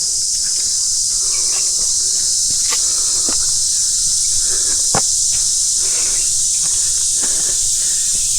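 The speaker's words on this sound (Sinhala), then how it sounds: "රැහැයියෝ කෑ ගහනවා කියන්නේ සාමාන්‍යයෙන් ඇත්තට හොඳ දෙයක් නෙමෙයි" Crickets chirp in a dense, steady high-pitched drone during a monsoon-season trek at Harihar Fort in Maharashtra, continuous throughout with a few faint clicks and rustles underneath.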